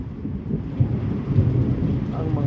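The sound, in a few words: heavy rain with thunder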